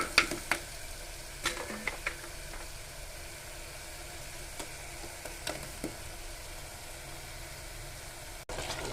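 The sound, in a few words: stirring goat leg curry frying in a pan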